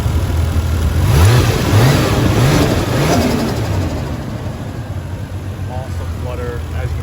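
Toyota JZX100 with a swapped 1JZ VVTi engine revs several times in quick succession with turbo flutter, loud and close, then settles to a steady idle.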